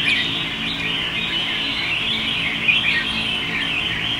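A caged songbird sings a continuous run of bright, high chirps and warbles, close and steady throughout, with no talking over it.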